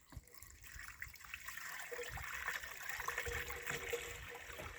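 Water rushes and trickles steadily into a sprayer tank, rinsing the chemical into it, a continuous splashing pour that builds slightly and stays fairly quiet throughout.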